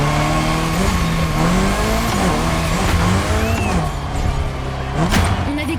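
A Mitsubishi Lancer Evo 6 drifts around Maui airport in The Crew Motorfest, its engine droning and rising and falling in pitch with repeated revs, tires squealing through the slides, loud and close throughout.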